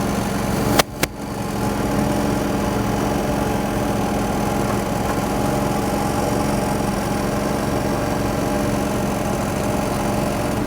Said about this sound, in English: Let's bring the forklift over.